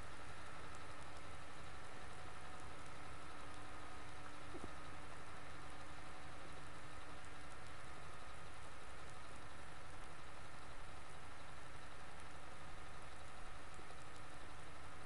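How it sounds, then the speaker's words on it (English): A 600 horsepower tractor engine in a farming video game hums at a steady, low idle-like drone throughout, even and unchanging, with no voices. "slight overkill using a 600 horsepower tractor for an 80 horsepower machine"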